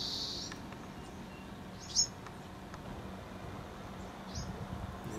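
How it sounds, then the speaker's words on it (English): A Bewick's wren in a backyard gives a few faint, brief high chirps over quiet outdoor background, one sharper call standing out near the middle. "There's the mother bird. Bewick's Wren."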